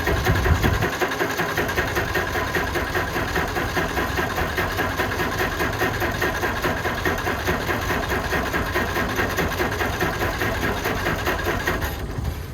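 An old engine catches after a brief low burst and settles into a loud, close, steady running chug with rapid rhythmic pulses that hold for about eleven seconds, with no voices.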